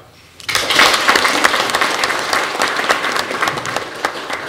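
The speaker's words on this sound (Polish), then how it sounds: "należą ci się brawa." Applause suddenly erupts at a volunteer fire brigade meeting, a dense, fairly close burst of clapping from the audience that rises quickly and holds steady before slowly thinning.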